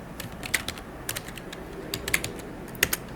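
Keystrokes on a computer keyboard, tapped out in short irregular bursts with scattered single clicks, close and fairly quiet.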